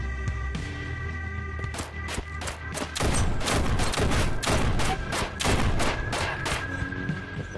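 Shotgun fire in the VR game Shotwood, a series of loud, sharp blasts at uneven intervals that grow denser and heavier partway through, with impact thuds among them and no talking.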